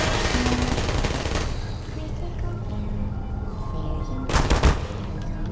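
Turret gunfire in the video game Portal, a dense rapid burst of loud shots filling the clip, with a heavier cluster near the end.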